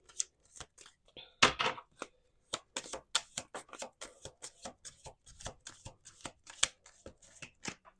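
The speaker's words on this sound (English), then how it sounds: "I'm going to do 2 more shuffles." A deck of playing cards is shuffled close up in a quiet room, with repeated sharp riffles and rapid papery flutters breaking off into irregular snaps and taps of cards being squared and handled.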